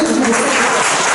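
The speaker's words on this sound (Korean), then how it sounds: "박수 한번 주세요." An audience at a church worship concert applauds, a loud, dense wash of clapping that fills the whole brief moment without pause.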